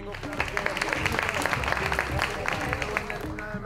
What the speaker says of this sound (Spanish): un aplauso para Erika.